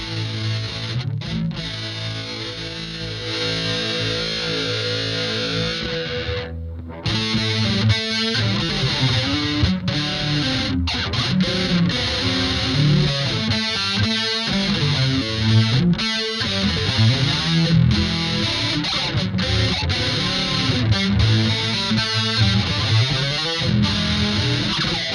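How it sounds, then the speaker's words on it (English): An electric guitar played through the high-gain distortion setting of a modulator effects pedal, thick saturated chords and riffs ringing continuously with a brief dropout near the start, no talking. "when I want to go straight to a high gain distortion"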